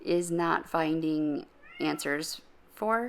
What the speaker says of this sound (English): I apologize for the cat crying in the background.